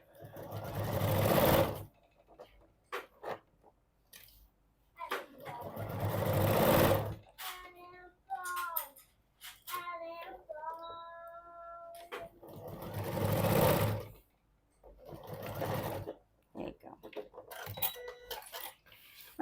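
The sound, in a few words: sewing machine stitching down a fabric pouch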